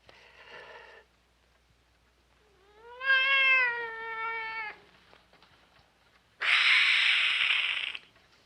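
A cat meows several times with pauses between: a short cry, then a long drawn-out wail, and finally a loud harsh yowl.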